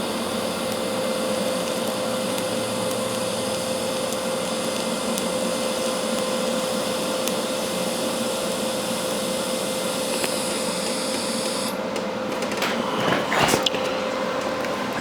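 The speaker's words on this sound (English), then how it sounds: "It's welding a lot faster because it's already, everything is nice and preheated." A weed wacker rack is being welded onto a utility trailer, with the metal already preheated. A steady buzzing hiss runs continuously for about twelve seconds, then cuts off and is followed by a few clanks and shuffling.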